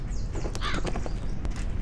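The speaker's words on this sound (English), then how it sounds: "The crows aren't afraid of a scarecrow without a head" Several harsh crow caws in the Shadow Wolf Mysteries video game, loud and close over steady ambient background noise, with a few scattered clicks.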